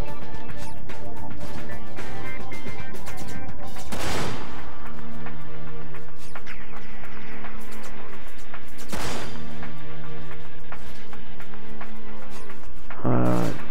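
Gunfire at a shooting gallery in the video game Dirge of Cerberus, loud close shots and bursts mixed with crashes and game music, a couple of sharp heavy blasts standing out.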